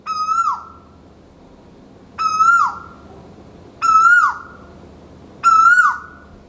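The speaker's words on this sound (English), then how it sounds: "we heard the alarm clock of the jungle, the Asian Koel" An Asian Koel's loud call repeats four times at steady intervals, each a rising whistled note with a sharp drop, ringing out clearly against quiet background in the Maldives.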